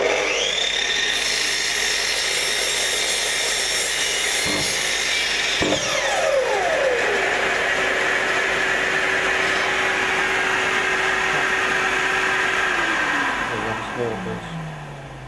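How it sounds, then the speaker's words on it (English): A timber docking saw runs loudly and steadily, winding up at the start, then cuts through wood with a coarse grinding rasp before spinning down near the end; a voice speaks briefly over the machine noise. "Bring our saw down."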